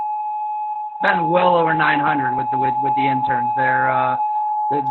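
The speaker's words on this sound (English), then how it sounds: "That's me. That's my siren." A 7 o'clock siren test for first responders sounds as a steady, unbroken tone that holds throughout, distant but clear, while people talk loudly over most of it.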